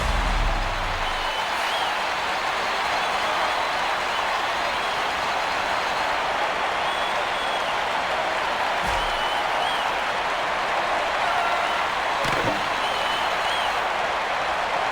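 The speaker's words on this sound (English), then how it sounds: "Well, that really put some life into the crowd." Crowd noise in the Gretzky NHL '06 hockey video game, a steady dense roar of applause and cheering from a large arena audience that runs through the whole stretch without letup.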